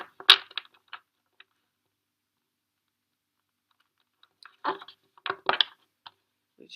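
Tarot cards shuffled by hand in two bursts of quick, crisp riffling and slapping, close and fairly loud, separated by a few seconds of silence, with no voices.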